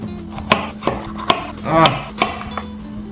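A knife chops an old, soft pepper on a cutting board in a home kitchen, with several sharp close taps at uneven intervals and one longer scraping cut in the middle.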